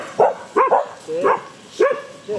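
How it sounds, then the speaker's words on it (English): Dogs on an Argentine estancia ranch bark in a quick series of nearby yips and woofs, about five short barks in uneven rhythm, fairly loud with no talking over them. "We've got dogs running around."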